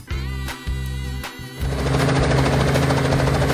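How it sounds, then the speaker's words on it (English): An adventure helicopter flies close by, its rotor thudding in a steady rhythmic chop that swells into a louder, denser whine of engine and blades. "Adventure helicopter."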